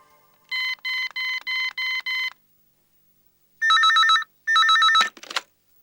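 Telephone ringing in a Tamil drama scene, a run of rapid electronic ring bursts followed by a pause and two more ring bursts, ending with a click as the call is picked up.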